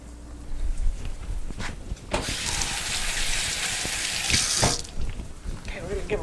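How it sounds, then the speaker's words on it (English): Hands being washed under a running kitchen tap, a steady broadband rush of water lasting a few seconds between quieter handling noises, close and fairly loud. "we're going to give a wash to the hands"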